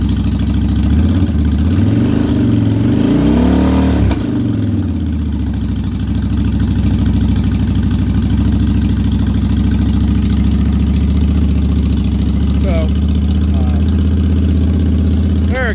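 A 2004 Yamaha V-Star 1100 motorcycle idles loud and close after a cold start. Its low, throbbing rumble wavers as the revs rise and fall early on, then settles into a steady idle.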